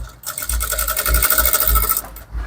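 A sewing machine stitches a waistband onto Ankara pants, producing a close, loud rhythmic rattling run that starts and stops briefly, with no talking.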